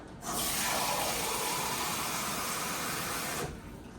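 Cold tap water gushes steadily into a container in a kitchen for about three seconds, starting and stopping abruptly, close and fairly loud with no voices.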